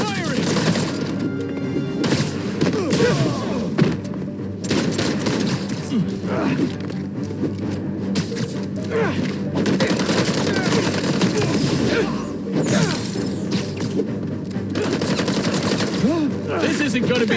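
Sustained gunfire during a gun club robbery in Marvel's Spider-Man 2 on PC, with dense overlapping shots and thuds throughout, mixed under game voices and score.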